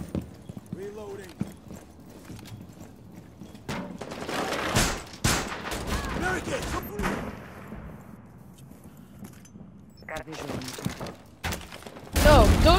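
Turret gunfire from the video game Rainbow Six Siege rattles in short, sharp bursts mixed with other game noise and people talking over it.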